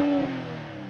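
A 2023 BMW M340i's B58 inline-six exhaust drones steadily with a strong harmonic hum, briefly rising at first then settling into a smooth, even idle-like rumble, heard from outside the car.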